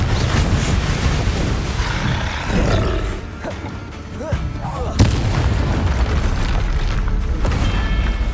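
Confringo fire spells explode in Hogwarts Legacy, heavy booming blasts and roaring bursts over continuous loud battle noise, with a sharp impact near the five-second mark.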